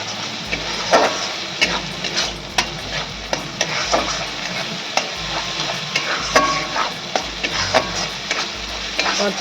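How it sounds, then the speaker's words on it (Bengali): Spices are stir-fried in oil in a pan for a vegetarian drumstick and pumpkin curry, with a spatula scraping in rhythmic strokes over a continuous soft sizzle. "যতক্ষণ না তেল ছাড়বে ততক্ষণ কিন্তু আমি কষাবো।"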